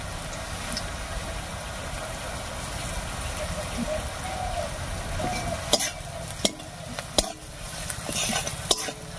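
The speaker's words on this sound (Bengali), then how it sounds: "লবণ আর হলুদ দিয়ে নাড়িয়ে নিয়েছি" Frying onions with salt and turmeric hiss steadily in a pan while a spoon stirs them, with several sharp scraping clacks against the pan near the end.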